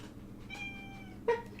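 A cat in the Dragon Age 2 game gives a thin, drawn-out meow, followed by a brief sharper squeak, faint against a low steady background hum.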